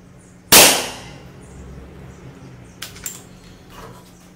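A single sharp, loud air rifle shot cracks close by and rings out briefly, followed by quieter clicks and mechanical handling noises.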